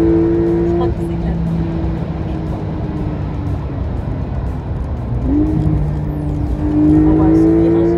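A rear-wheel-drive Porsche taking a corner, its engine droning loudly and steadily at close range, then the pitch sweeps upward as it accelerates out of the bend. Continuous and dominant throughout.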